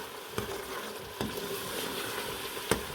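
Whole green chillies fry in hot oil in a pan, giving a steady soft sizzle with a few sharp spoon-stir scrapes at intervals.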